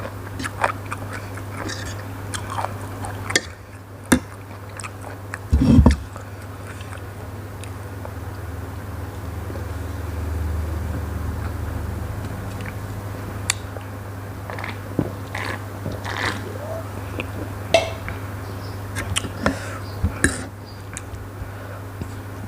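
Close, crunchy chewing and biting of spicy Korat-style papaya salad (som tam), with repeated wet bites and munching over a steady low hum and almost no talk.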